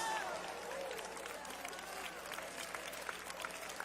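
Church congregation clapping during a sermon, a faint, steady wash of many hands with a few sharper claps near the end, and a voice briefly audible at the start.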